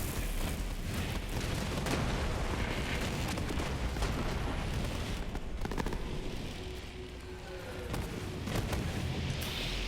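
Rocket launcher blasts in the Borderlands 3 looter-shooter, heard as a dense, continuous barrage of booming explosions and gunfire that dips briefly before returning loud.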